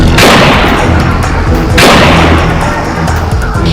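Celebratory gunfire from a rifle and a pistol at a wedding in Motihari: two loud, sharp reports about a second and a half apart, each trailing into a dense echoing roar.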